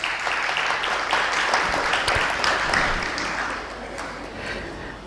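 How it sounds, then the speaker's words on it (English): A conference audience at a transgender health event claps steadily as a speaker is invited to the stage; the dense patter of many hands holds for about five seconds at an even, moderate level before easing slightly. "a big round of applause for her"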